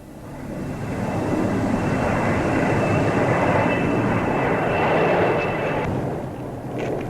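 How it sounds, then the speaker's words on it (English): Avro Vulcan delta-wing jet bomber passing overhead at a 1953 RAF review, a broad, loud rushing roar with a thin high whine that rises and fades away. "There's the delta-shaped Vulcan, another of Britain's newest bombers."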